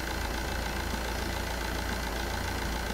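Steady, loud low engine drone like a tractor from a vehicle in the video game Supermarket Simulator, a continuous even hum running throughout with no talk.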